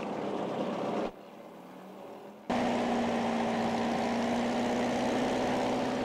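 The engine of a Mauboussin Corsaire 125 light aircraft is run up on the ground, a steady propeller drone that briefly drops away, then returns louder with a sustained droning tone.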